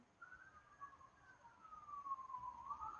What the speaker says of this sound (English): there's more sirens going by my house, but I can only tell what the fire department's doing